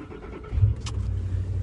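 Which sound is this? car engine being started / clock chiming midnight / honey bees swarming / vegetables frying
car engine being started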